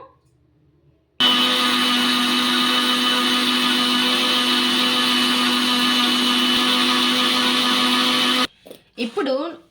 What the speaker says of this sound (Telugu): ఇప్పుడు పౌడర్ లాగా మనం మెత్తగా మిక్సీ అయితే పట్టేసుకుందాము